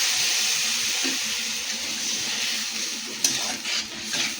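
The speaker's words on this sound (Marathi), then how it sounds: "आता याच्यामध्ये आपण पाणी टाकायचं ते शिजण्यासाठी" Steady hiss of a hot pan as water goes into sautéed masala for shev bhaji, a broad wash of bubbling and sizzling, with a few clinks near the end.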